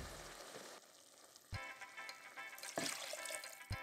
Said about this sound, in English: Now I'm adding the mixture into our Dutch oven.